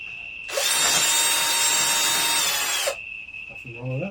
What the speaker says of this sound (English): Drill that through again.